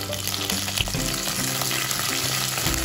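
Ginger, split dried chili, chopped green chili and curry leaves frying in hot oil on a low flame for a vegetable curry, a continuous close crackling sizzle with no talk.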